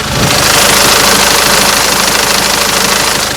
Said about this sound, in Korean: 엔진 소리 바로 들려드리도록 하겠습니다